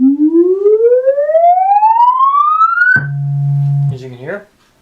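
Minimoog synthesizer tone sweeping smoothly upward in pitch for three seconds, then jumping to a steady low buzzing note and a short warbling tail that dies away.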